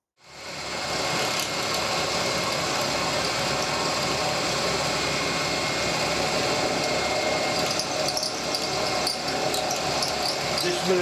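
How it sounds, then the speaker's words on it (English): A milling cutter cuts a keyway in steel for a steam locomotive part, giving a loud, steady machining drone with a dense grinding, rattling texture that runs unbroken for the whole stretch. "This milling cutter wants to snap."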